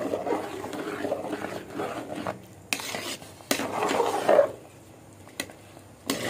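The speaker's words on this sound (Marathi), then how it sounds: "आता याच्यावर झाकण ठेवायचं." A metal lid settles onto a pot of sweet dish flavoured with cumin and cardamom, simmering on a low flame, with a few sharp clanks and scraping rattles amid soft kitchen rustling.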